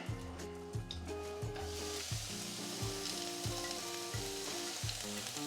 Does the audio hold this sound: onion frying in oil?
yes